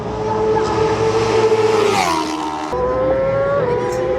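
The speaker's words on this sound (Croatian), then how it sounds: "Ovi motori probijaju uši." Racing motorcycles on the Isle of Man TT road course scream past at full speed, their high engine whine dropping in pitch as one machine sweeps by near the middle and another follows soon after, loud and close.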